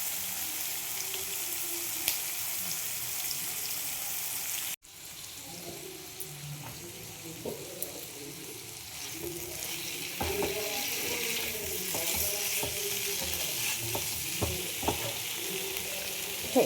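Potatoes and goat liver sizzle steadily in a hot pan for mets chorchori, with clinks and scrapes of stirring and a brief water-tap splash near the start; no one speaks.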